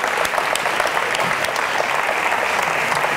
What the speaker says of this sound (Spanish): Un aplauso de nuevo para él, por favor.